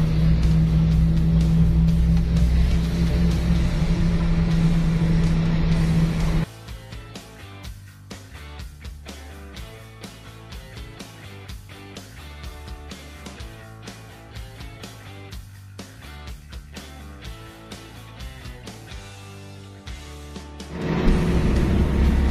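Classic original Toyota Corolla KE20 on a test drive, engine note steady and loud throughout, with a heavier surge at the start and end, no talk.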